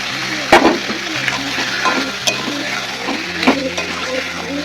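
Fish cooked in masala with cashew paste being stirred in a pan: soft sizzle under intermittent spatula scrapes and a few sharp knocks against the pan, close and moderately loud, no talking.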